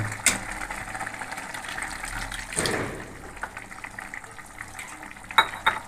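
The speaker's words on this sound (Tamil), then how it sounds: "இப்போ பாருங்கள் நல்லா கொதி வந்துருச்சு" Potato masala for poori boiling in a pan, giving a steady close bubbling hiss with a few louder splutters and clinks, and no talking.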